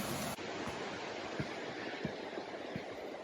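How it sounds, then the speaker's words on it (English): A big waterfall on a rocky creek roars as a steady, loud broadband rush with no talk over it, and a few brief low thumps of water strike through the wash. "I think this one is the big waterfall."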